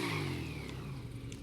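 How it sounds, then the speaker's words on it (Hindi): A Ducati motorcycle engine revving in GTA 5 gameplay, a steady mid-pitched engine drone with rising tone, close and continuous. "ये तो डुकाटी है।"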